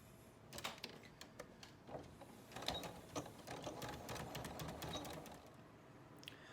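A sewing machine stitches along a drawn line on batik fabric in a quiet room, giving a light mechanical run with rhythmic clicks and ticks that starts and pauses over several seconds.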